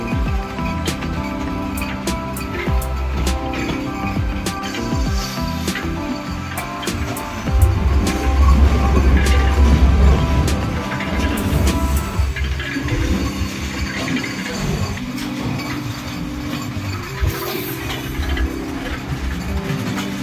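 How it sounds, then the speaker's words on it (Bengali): The Nilsagar Express rumbles and clatters steadily from on board as it enters Dhaka Airport railway station, wheels knocking rhythmically on the rails, with a louder rush partway through before it settles again. "আমাদের ট্রেনটি ঢাকা বিমানবন্দর রেল স্টেশনে প্রবেশ করছে।"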